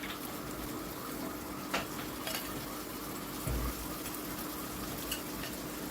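Marinated mutton sizzling as it goes into spiced oil over a high flame for mutton curry, a steady faint frying hiss with a few soft stirring knocks and one dull thump, no talk.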